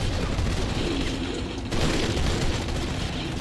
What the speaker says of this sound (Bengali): heavy firing